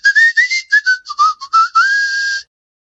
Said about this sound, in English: Ulterion started walking and whistling faster.